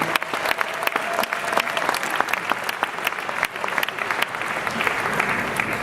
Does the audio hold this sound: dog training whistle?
no